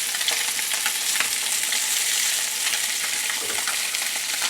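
A branzino fillet sears in a hot pan with a steady, close, dense sizzle and crackle, holding even throughout with small pops and no talking.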